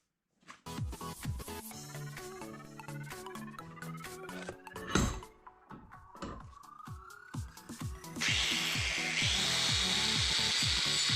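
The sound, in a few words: grinding out a motorized bike engine mount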